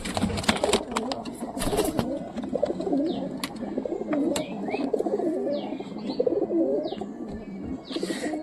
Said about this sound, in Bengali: দেখতে সব কবুতর কীভাবে ডাকাডাকি করতেছে